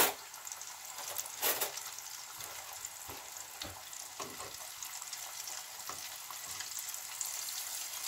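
Chicken wings frying in oil in a pot, a quiet, even bubbling hiss with a few soft knocks and one brighter burst near the start, no talking.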